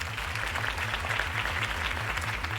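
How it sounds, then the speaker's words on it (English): In Batman: The Telltale Series, a crowd claps steadily throughout a campaign event, a dense, sustained applause under a low rhythmic music beat, with no clear talking. "If only Mr. Wayne, my campaign's largest backer, could have heard that applause"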